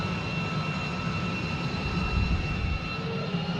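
An F-35 jet engine in a hover pit roars as a steady, loud, dense wash of noise with a low rumble underneath, building slightly in strength with no one talking.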